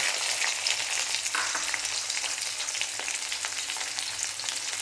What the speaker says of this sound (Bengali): কড়াইয়ের তেল গরম হয়ে গিয়েছে এবার দিয়ে দেবো লঙ্কা ভাঙাটা আর পেঁয়াজ দেবো